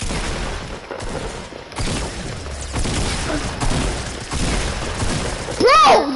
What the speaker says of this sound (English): Dude ate 3 shotgun shots